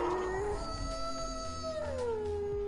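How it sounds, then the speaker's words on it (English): A drawn-out, wavering howl from the Fortnite video game rises and slides down in pitch for a few seconds, loud and continuous over a low rumbling game soundscape. "That's kinda weird, the howl."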